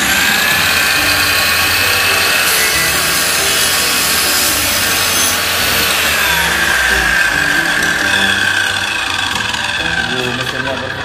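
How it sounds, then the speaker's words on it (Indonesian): A 7-inch NRT Pro cut-off machine slices through a piece of wood, its loud, steady high-pitched whine and rasping cut running continuously from near range throughout. "Mesinnya berputar ya, baru kita berhenti berputar baru kita tunggu."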